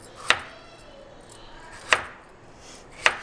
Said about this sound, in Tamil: சவுச்சோ வந்து இந்த சைஸ் பீசஸ்க்கு கட் பண்ணிக்கலாம்.